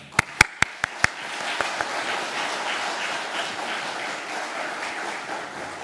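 A church congregation at an Easter revival meeting applauds the pastor: a few sharp, close claps ring out first, then settle into softer, diffuse, steady clapping from the crowd that continues to the end.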